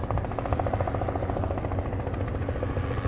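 A helicopter's steady rotor thump and engine drone hold close and loud throughout, with no break or fading, during an evening safari drive at Djuma.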